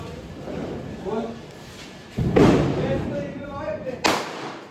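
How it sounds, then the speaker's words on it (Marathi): Diwali firecrackers burst outdoors with two sharp, loud bangs a couple of seconds apart, heard amid ongoing conversation. "तेही लोक आता फटाके फोडत आहेत"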